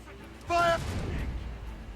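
Ship cannon fire in the Assassin's Creed Rogue video game, a single booming shot with a short ringing tail that rolls off into a low rumble.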